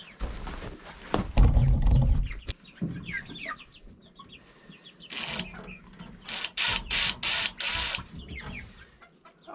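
Guinea fowl in a coop converted from a DIY dog house call out in scattered bursts: harsh, repeated clucks and shrieks, some close and loud, between quieter scuffling pauses.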